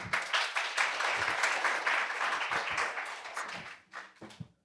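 An audience at a youth climate conference session in Korea claps to welcome the host onto the stage, a fairly faint burst of many hands that thins out into a few scattered claps near the end.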